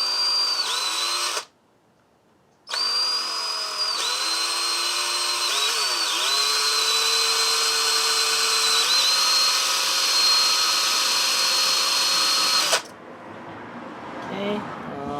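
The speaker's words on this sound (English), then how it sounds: "Or should we just drill it like that?" Power drill boring a hole in a steel front motor mount brace for a WR250E motorcycle, a loud sustained whine with shifting pitch, one brief pause near the start, then stopping near the end into quieter shop noise.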